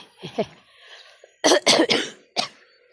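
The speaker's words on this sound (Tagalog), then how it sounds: "Inuubo pa din." Several sharp, harsh coughs ring out close by, a short burst of three followed by one more, after some quieter throaty sounds.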